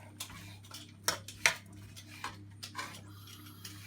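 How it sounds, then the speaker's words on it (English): A spoon stirs onions with butter and cumin seeds in a pan, producing a few light scrapes and metallic clinks against a low steady hum, quiet and close, without speech. "Give it a little stir so the butter and the cumin seeds are on all over the onions."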